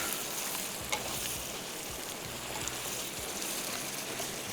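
Karahi in a pan with crushed coriander being stirred: a steady, soft sizzle with scraping stir sounds and a few faint clinks, fairly quiet throughout.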